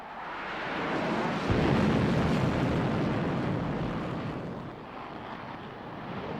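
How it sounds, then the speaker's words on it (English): A SEPECAT Jaguar jet roars past as a broad, loud rumble and whoosh that swells sharply after the first second and then slowly fades, with wind buffeting the microphone and no voices. "the Jaguar is an ideal aircraft for out-of-area operations"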